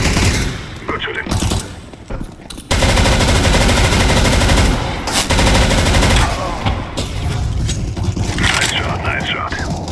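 Rapid automatic gunfire from the CS:GO arms race mode rattles in dense, loud bursts, with a long sustained volley in the middle and sharper shots and scrapes around it, plus game voice lines.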